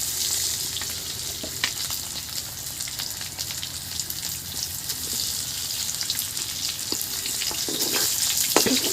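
Pieces of fish frying in hot oil on a wood-fired clay hearth, with salt just added, give a steady, dense sizzle and crackle that holds close and even throughout, without speech.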